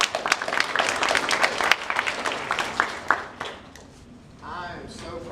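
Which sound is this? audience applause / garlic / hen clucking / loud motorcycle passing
audience applause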